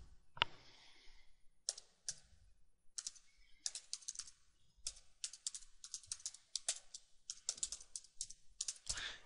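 Fingers type an email address on a computer keyboard in quick, irregular bursts of close, crisp key clicks with short pauses between runs.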